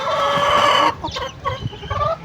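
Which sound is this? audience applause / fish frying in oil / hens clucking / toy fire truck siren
hens clucking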